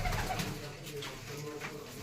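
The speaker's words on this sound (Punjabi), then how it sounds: "ਕਬੂਤਰੀ ਆ ਗਈ" A pigeon coos softly in a loft setting during pigeon flying, the low murmuring calls faint and steady beneath a wash of outdoor noise, with no talk.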